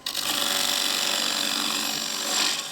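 A power tool cutting wood and peeling off long, pigtail-like shavings makes a continuous, fairly loud rasping whir that holds steady throughout and swells slightly near the end.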